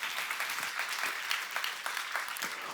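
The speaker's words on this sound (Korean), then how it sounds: "박수 좀 쳐봐." Church congregation at a seminar clapping together, a brisk, dense burst of applause from a roomful of people, steady and fairly close throughout.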